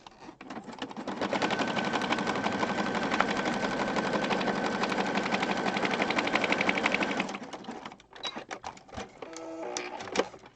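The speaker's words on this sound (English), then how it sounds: "I'm going to come back down and sew across this area here" A sewing machine runs steadily for about seven seconds, stitching across junk journal pages, then stops, leaving a few scattered clicks and handling noises.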